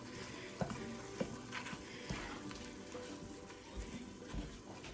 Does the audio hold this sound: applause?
no